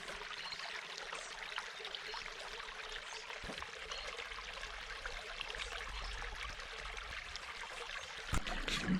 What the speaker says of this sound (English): the water's gonna flow out a lot quicker if we let all this flow out